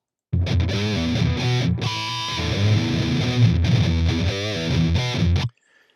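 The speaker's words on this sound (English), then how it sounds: "if you had a tube screamer, it would sound like this" An electric guitar through a Tube Screamer overdrive pedal plays a riff with a crunchy, mid-heavy distorted tone, then cuts off abruptly into silence.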